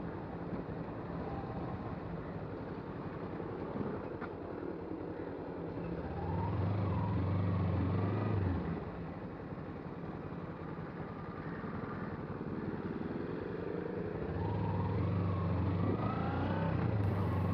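A Kawasaki Ninja 300 motorcycle rolls over speed breakers on an Indian road, its engine idling low and then swelling into two rising revs as it climbs each bump, heard close with steady road noise between.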